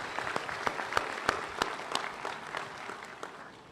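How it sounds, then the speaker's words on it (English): A small audience at a graduation ceremony claps, sharp individual hand claps scattered across the room, gradually thinning and fading toward the end. "Let's give them all a round of applause."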